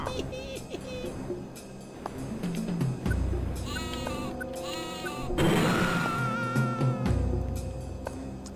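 Bleating sheep weapon thrown in the PSP game Worms Open Warfare 2, several wavering bleats at moderate loudness over game sounds, with a louder cry near the end.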